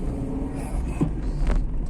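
A small car pulls away slowly nearby with a low, steady engine rumble that swells slightly as it moves off, heard alone without speech.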